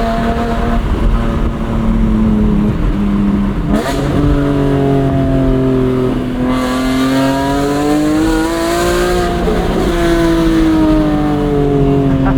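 A track-prepped 2005 BMW E46 M3 Competition with a 6-speed SMG gearbox revs hard while driving, its loud engine note climbing and falling steadily through gear changes, heard from inside the cabin with no talking.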